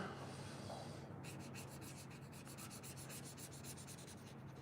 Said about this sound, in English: So I'm just colouring in this dirt pile with the brown.